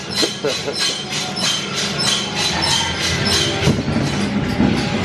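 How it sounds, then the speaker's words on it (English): A ghost train ride at Southport Pleasureland rattles along its track, loud rhythmic clattering of the car over rail joints with squeals and bangs close by, no speech. "So we've just come off the ghost train."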